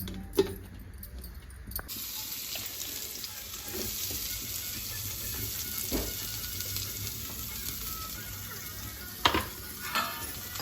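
Onion roasting in a pan gives a quiet, steady sizzle with faint crackling throughout. A few sharp clinks and knocks of utensils break in now and then, and no one speaks.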